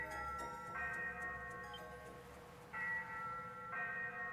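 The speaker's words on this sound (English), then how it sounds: "The ship's bell?" A ship's bell in Ys VIII rings in repeated tonal strokes with long sustained overtones, fairly loud and close, over a steady low game ambience.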